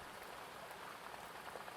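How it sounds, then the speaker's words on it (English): Steady rain patters against windowpanes on a stormy night, a dense, even hiss with no breaks and no voices, soft and unbroken throughout. "you can hear the sound of the rain on the windows"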